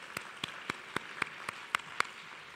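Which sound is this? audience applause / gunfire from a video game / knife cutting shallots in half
audience applause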